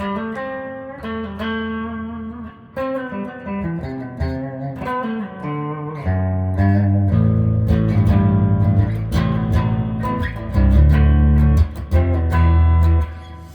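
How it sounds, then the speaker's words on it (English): Clean electric guitar through a Boss Katana MK2 amp playing chords and picked notes, with echoing delay repeats and a reverb wash trailing each phrase; no voices. "this is a clean that's just got a little delay and reverb."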